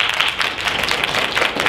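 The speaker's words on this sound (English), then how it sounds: "Will you give them a nice round of applause?" An audience at a motivational seminar talk claps in a short, steady round of applause, a dense wash of hand claps filling the room with no voices over it.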